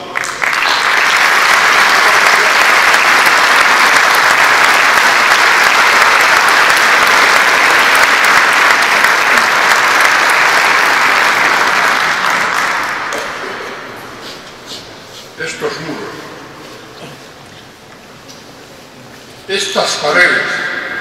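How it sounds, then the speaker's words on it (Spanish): A hall audience applauds a poet at a plaque tribute in a central library in Cantabria. Dense, loud clapping holds steady for about thirteen seconds, then thins and fades, with a few brief scattered claps and talk afterward. "va a intervenir el poeta Antonio Casares, para el cual pido un aplauso"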